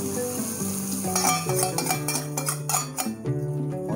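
A spice paste sizzles in hot oil on a preheated griddle, a steady crackling fry with scraping and stirring against the metal and a few light clinks, heard close and alone.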